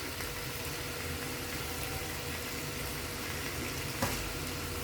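Mutton liver (kaleji) sizzles steadily in a pan as a spoonful of vinegar goes in, a constant close hiss with a brief sharper flare near the end.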